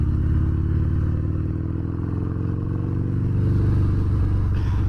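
A 2019 Harley-Davidson Fat Bob 114 idles and rolls at low RPM, below 2,000, with a deep, steady, loping rumble heard up close and loud, no talking over it.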